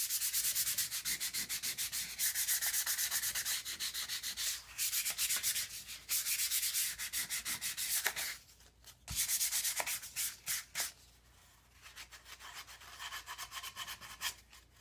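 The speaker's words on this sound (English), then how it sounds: "and then I'll take it over to the spindle sander" Wood being sanded out on a spindle sander while shaping a guitar control cavity, a loud, close, continuous abrasive rubbing that breaks off in short pauses as the piece is lifted and pressed back.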